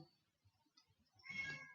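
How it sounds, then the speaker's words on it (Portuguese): A cat meows once, loud and close, after a stretch of quiet low murmuring. "vocês estão ouvindo o gato miando?"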